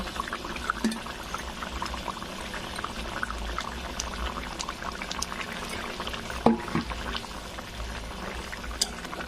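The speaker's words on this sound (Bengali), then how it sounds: "কিছুক্ষণ ঝোল ফুটতে দিব" Fish curry gravy with rupali fish bubbling in a pan, a continuous close simmering and gurgling with faint pops, steady throughout and no talking.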